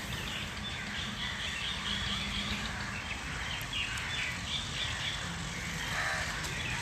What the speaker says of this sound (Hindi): कौवे कितने शोर मचा रहे हैं।